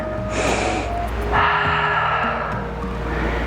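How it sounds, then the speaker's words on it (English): A deep breath drawn in during a morning yoga flow as the arms rise, a rushing airy inhale that swells near the middle of the clip, close to the microphone, with no talk over it. "Inhale, arms up."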